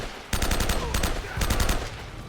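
Rapid automatic gunfire in the action game Uncharted: Drake's Fortune comes as two short, loud bursts of fast, evenly spaced shots close by, separated by a brief gap.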